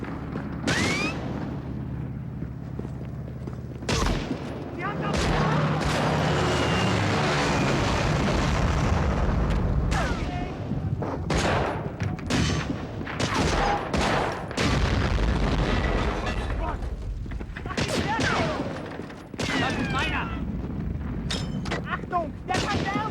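PlayStation 2 war game battle with dense, loud gunfire and booming blasts, rapid bursts layered over a constant roar of combat, with shouted voices in the mix.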